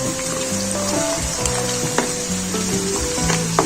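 Chopped onion and fresh garlic fry in a hot pan with a steady, close sizzle, stirred now and then with faint scraping clicks, heard alone without talk.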